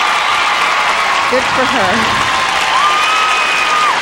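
An arena crowd at Joe Louis Arena applauds and cheers figure skater Michelle Kwan after her 1997 Skate America short program, a dense steady roar of clapping while a commentator speaks briefly over it.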